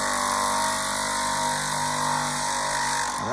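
Power grinder working a knife blade in one slow, full-length pass: a constant loud whining drone with steady grinding noise throughout, easing off right at the end, no voices.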